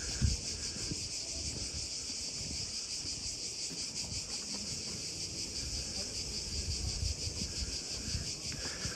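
Cicadas in the heat around the Acropolis in Athens keep up a loud, continuous shrill drone that holds steady throughout, with faint low rumbles of wind or handling beneath and no talking.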